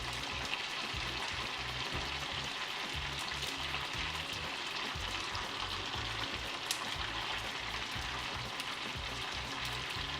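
Meat fries in a pan with a steady, even sizzle and crackle, moderately loud and continuous throughout, with occasional faint stirring scrapes and no talking.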